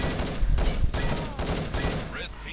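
Rapid bursts of video game gunfire crackle and rattle through a team shooter match, loud and dense, with overlapping shots and brief gaps between volleys.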